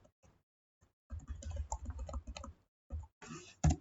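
Quick bursts of typing on a computer keyboard while entering Python code, clustered keystrokes with short pauses between runs, close and moderately loud with no talking.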